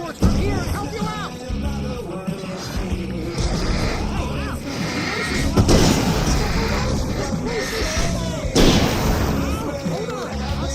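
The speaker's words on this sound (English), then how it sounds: "I can set off more of the fireworks from here and help you out!" Fireworks bursting in the video game Alan Wake: repeated booming explosions, with two especially loud blasts, rumble over a dense bed of game music and effects, with voices in the mix.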